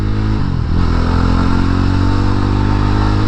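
A Yezdi Roadster motorcycle engine is loud and close as the rider accelerates hard, a brief dip in pitch giving way to a steady, rising drone as the bike pulls.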